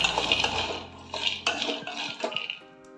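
Peanuts dry-roast in a metal pan while being stirred, giving repeated scraping clinks and rattles of nuts and utensil against the pan that fade out at the end.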